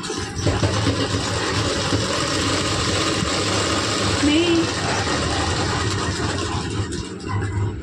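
A sewing machine stitches a blouse in a continuous close whirring drone, steady and loud throughout, with a voice briefly audible beneath.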